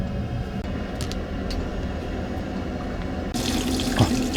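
Hot water running from a tap inside a used camper van, its boiler fed by LP gas, a steady close rushing stream that grows brighter and louder partway through, with no voices.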